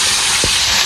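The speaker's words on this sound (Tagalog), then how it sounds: "Tapos nagpiprito tayo ng isda doon." Fish frying in a pan for a Filipino lunch gives a loud, close, continuous sizzling hiss over a brief moment, with one faint low thump partway through.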